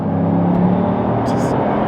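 A Bugatti in sport mode pulls away hard with a steady, loud engine drone and low rumble, close and continuous, while some speech is faintly mixed in.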